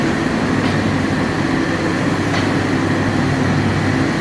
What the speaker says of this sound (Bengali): ট্রেন তিস্তা ছাড়লো 7:48, তার কিন্তু যাত্রা শুরু করলো এখন